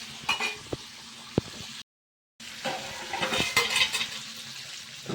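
River fish frying in a pan, a continuous sizzle broken by clinks of a utensil against the pan and a short silent gap midway.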